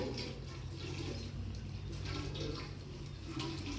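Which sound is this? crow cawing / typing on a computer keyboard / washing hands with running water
washing hands with running water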